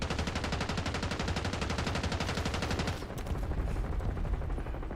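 Rapid automatic gunfire rattles in a video game, a dense, loud stream of evenly spaced shots for about three seconds before easing into a rougher, less regular burst of fire and noise.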